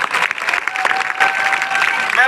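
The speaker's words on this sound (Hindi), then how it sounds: "अशोक के लिए फिर से ताली बजाओ भाई" Crowd applause at a BJP political rally, dense clapping from a large audience lasting a couple of seconds, with a faint tonal hum running underneath.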